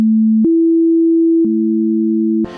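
Pure sine tones in sequence: a low steady tone, then a higher one a perfect fifth above in a 3:2 ratio, then both sounding together as a sustained interval, loud and clean before a burst of other sound at the end.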